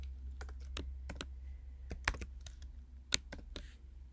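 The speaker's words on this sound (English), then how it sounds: "I'm just going to type it in here." Fingers tap keys on a computer keyboard in an irregular series of crisp, close clicks, with a couple of sharper keystrokes, over a low steady hum.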